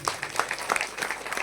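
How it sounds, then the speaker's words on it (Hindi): Brief burst of audience applause at a Bhagavat Katha religious gathering, uneven and loosely spaced claps, fairly close. "जोरदार ताली उनके लिए।"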